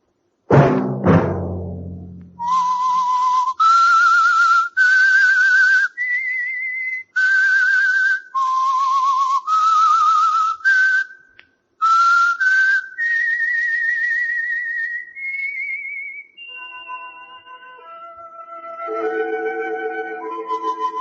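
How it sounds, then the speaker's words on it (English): A whistled tune rings out clearly as the signal for the radio program The Whistler, a sequence of sustained notes with brief pauses, after an opening low chime, ending in softer layered tones. "Let that whistle be your signal for the Signal Oil program, The Whistler"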